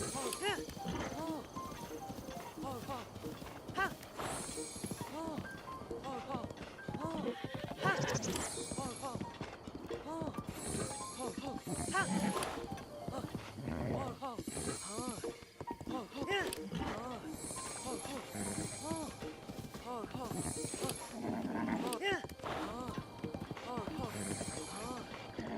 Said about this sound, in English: This horse seems extra feisty.